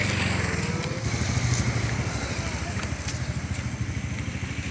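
A motorcycle engine putters with a rapid, even low throb in a university bike parking area, close by, with voices in the background.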